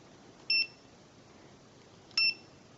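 A FOCHANC DM003 multimeter gives two short, high electronic beeps on its continuity test, spaced about a second and a half apart against a quiet background.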